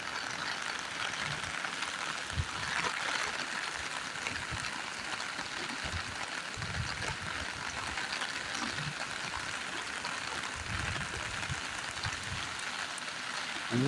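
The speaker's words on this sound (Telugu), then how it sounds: "చినుకులు రాలుతూ భారీ వర్షం కురుస్తున్న దృశ్యాలు ఇప్పుడు మీరు చూస్తున్నారు" Heavy rain pours steadily onto a national highway near Kalluru, a dense, even hiss of falling drops with scattered low thumps, continuous and fairly loud throughout with no voices.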